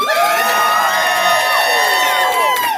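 Convention audience at Mysticon 2020 cheering loudly on cue, a close, sustained burst of high shouts and whoops from many voices lasting a few seconds.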